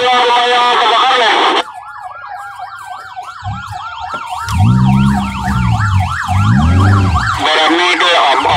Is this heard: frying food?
no